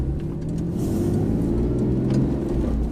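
A Porsche 911 with a manual gearbox pulling away and gaining speed, its engine a steady, loud low drone heard from inside the car, with no talking over it.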